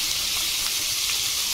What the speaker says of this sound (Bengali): চিংড়ি মাছ দিয়ে দিলাম ভাজতে